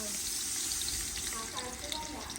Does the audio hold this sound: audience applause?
no